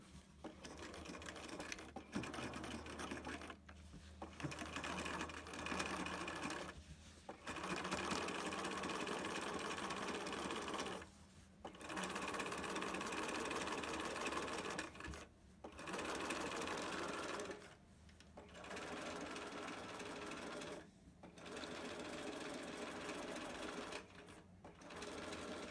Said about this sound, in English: So we're top stitching close to the edge.